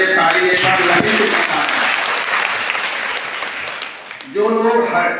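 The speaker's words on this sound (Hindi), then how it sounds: "बजाइए ताली एक बार लगी।" Audience applause at a Hindi motivational talk on women's empowerment, a dense sustained burst of clapping from a crowd that dips briefly near the end before swelling again, with a voice starting to speak over it at the close.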